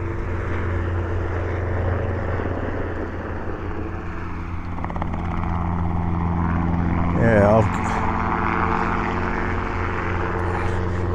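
A training helicopter flies near a market at Wellesbourne, and its steady engine and rotor drone goes on throughout at a distance under a person's voice.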